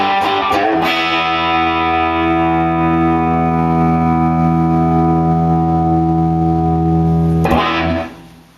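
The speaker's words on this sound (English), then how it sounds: "Lots of distortion, but not the pleasant kind, and the decay is really grainy." A guitar chord is struck through a 1965 Fender Deluxe amp turned up to 10, ringing loud with harsh, grainy distortion and a long sustained decay before being abruptly muted near the end.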